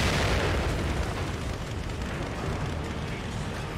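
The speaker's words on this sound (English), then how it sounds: "Let's go ahead and just throw a grenade over there." A grenade blast from the survival horror game The Evil Within, a dense, sustained roar of explosion and rumbling debris that stays loud and close throughout without fading.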